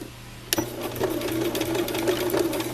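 A sewing machine starts up and runs steadily, stitching across folded fabric for a lunch bag, loud and close with a fast, even mechanical whir and no talking.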